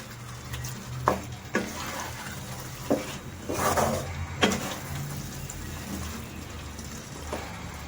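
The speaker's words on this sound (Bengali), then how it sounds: "মাংসটা মিশিয়ে আমি নাড়িয়ে দেব মশলার সাথে যাতে মিশে যায়।" Chicken pieces and spices are stirred in a pan for chicken curry, with several distinct scraping strokes and soft clacks over a low sizzle, spaced irregularly and close by.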